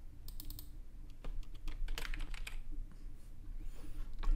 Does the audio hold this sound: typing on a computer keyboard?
yes